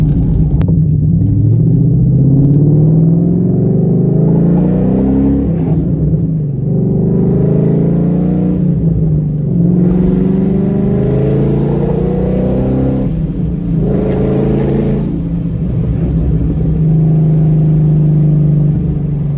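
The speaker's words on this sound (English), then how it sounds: "if you have a good exhaust on your car, you will never get tired of it" Deep, loping engine rumble from a 2014 Ford Mustang GT 5.0 V8 with an aggressive aftermarket cam and tune, driving, rising and falling as it revs through gears, loud and continuous throughout.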